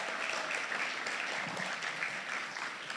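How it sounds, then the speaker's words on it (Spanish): A church congregation applauds, a broad, steady wash of clapping that carries on evenly for a few seconds and sounds somewhat distant. "puedes darle un fuerte aplauso a Jesús"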